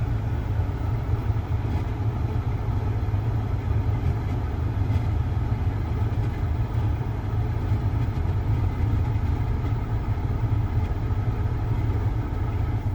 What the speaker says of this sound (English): You can hear the fan is going, but it's not pushing any air out through the vents.